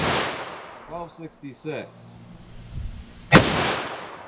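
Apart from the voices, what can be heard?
44 Magnum revolver gunshots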